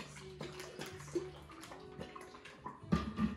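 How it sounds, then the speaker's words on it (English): Buttermilk poured from a quart container into a Ziploc bag holding a whole spatchcocked chicken, a soft gurgling liquid stream with small splashes and plastic rustles, close and moderately quiet. "Take a quart of buttermilk and pour it in."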